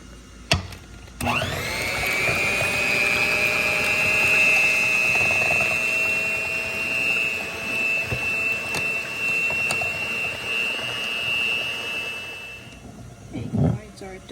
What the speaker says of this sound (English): Let's go ahead and beat the eggs then,